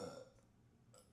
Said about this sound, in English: sorry, I have to burp.